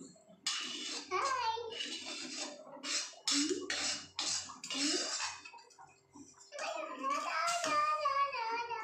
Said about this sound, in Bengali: দেখুন কড়াইটা আমি একটু পরিষ্কার করে নিই।